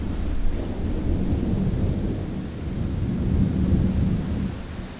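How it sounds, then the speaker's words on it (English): Steady rain falls with a deep, rolling rumble of thunder underneath, a continuous broadband wash that swells and fades slightly without any voices. "Yes, it's raining now."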